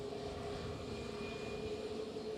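Transavia jet airliner departing Edinburgh airport for Rotterdam, a faint distant steady engine roar with a thin whining tone held throughout, heard alone.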